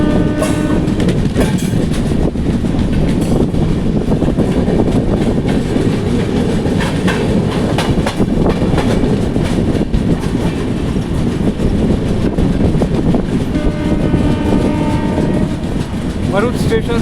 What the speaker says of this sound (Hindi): दुरंतो एक्सप्रेस अब स्किप कर रही है भरूच स्टेशन को।